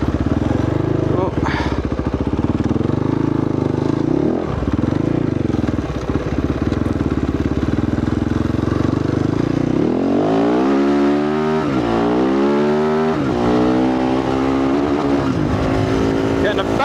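A motorbike fitted with a 51T sprocket rides a long stretch through the desert, its engine droning loud and steady close by, with gear changes and rising and falling revs near the end.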